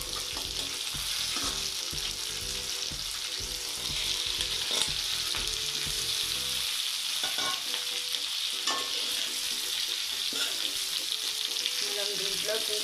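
Bitter gourd and green chillies frying in refined oil: a dense, continuous sizzle close up with scraping stirs, and the hiss eases slightly partway through.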